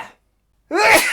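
A single sharp sneeze bursts out after a brief silence, loud and close, preceded by a faint breathy intake.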